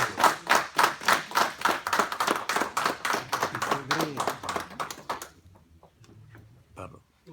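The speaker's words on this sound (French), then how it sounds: "On doit quand même applaudir." Guests at a year-end drinks party applaud together in a burst of dense, rapid clapping that fades out after about five seconds, leaving quiet room murmur, with a voice briefly heard.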